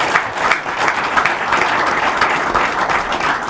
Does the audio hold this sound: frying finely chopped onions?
no